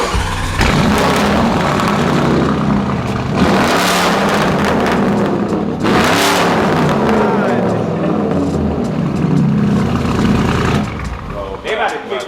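A Lamborghini Performante fitted with a Capristo exhaust revs loudly and continuously, the engine note swelling and dropping in repeated pulls, with people talking over it.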